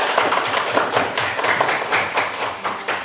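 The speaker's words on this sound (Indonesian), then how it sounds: "tepuk tangan untuk kelompok kelinci" An elementary school class claps for the rabbit group after its presentation, a steady run of many quick hand claps from nearby children with no talking.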